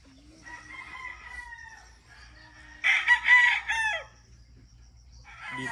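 Kelso stags, young white-legged roosters, crow on a farm in Bukidnon, one loud crow rising over softer clucking and calls nearby, with another starting at the end.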